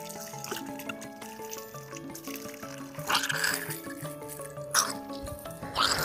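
Water trickles and spurts weakly from an irrigation installation in a young durian orchard. Short splashy bursts come and go at low volume beneath steady background music.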